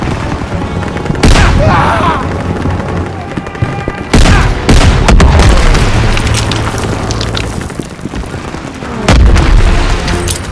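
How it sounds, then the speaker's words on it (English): Heavy booming anti-aircraft gun fire in the Call of Duty WWII video game, repeated loud blasts mixed with scattered gunfire and explosions across a chaotic battlefield. "AA gun!"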